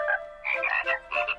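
A cartoon frog gives a quick series of croaks, three or four close, loud, throaty bursts in a row in a quiet scene from an animated pony series.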